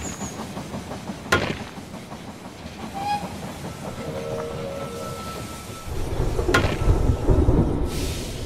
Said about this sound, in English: The train has arrived at the station